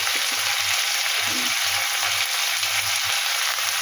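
Poppy seeds with a little ginger fry in a pan for a Bengali home-cooked dish, giving a steady, close sizzle that runs without a break and with no talk over it.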